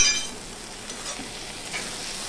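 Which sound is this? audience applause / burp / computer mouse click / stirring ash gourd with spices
stirring ash gourd with spices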